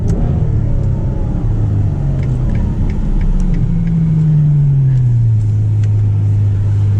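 A Ferrari 812 Superfast V12 engine rumbles loudly and continuously up close, its low drone shifting pitch as it revs and settles.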